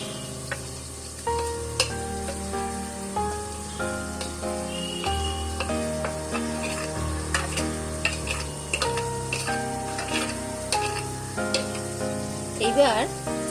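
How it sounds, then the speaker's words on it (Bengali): Tangra fish frying in hot oil in a home kitchen pan, a steady close sizzle with scattered crackles and pops, plus harmonic tones from background music or a kitchen device running throughout, with no talking. "তেল গরম হয়ে গেছে, এবার আমি মাছগুলি ছাড়বো।"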